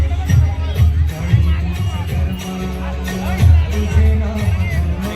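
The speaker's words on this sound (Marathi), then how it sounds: "गर्दी पण खूप आहे." A dense crowd of Warkari pilgrims at a palkhi procession makes a continuous babble of voices with rhythmic low thumps, likely drumming for the dancing, and people talk nearby.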